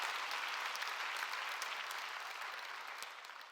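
A congregation applauding during a Sunday worship service at a Korean church: continuous, even clapping from many people, moderately distant and softly tapering off over a few seconds.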